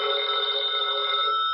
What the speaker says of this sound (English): Telephone is ringing at the moment, and as Mike picks up the receiver, he hears